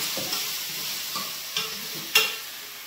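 A spoon stirs bitter gourd fry in a pan, with soft scraping strokes and a few sharper clinks against the metal, over a faint low sizzle and no talk.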